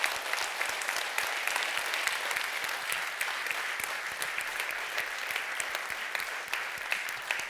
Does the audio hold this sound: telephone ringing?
no